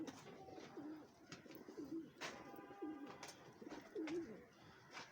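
Pigeons coo repeatedly at a fairly close distance, soft throaty calls recurring every second or so over faint background noise.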